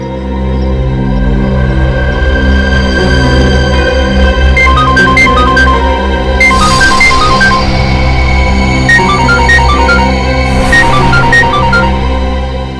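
Mobile phone ringtone in a CID crime drama scene: a bright, repeating melodic chime that rises in short bursts, loud and layered over dense sustained background music, with no talking.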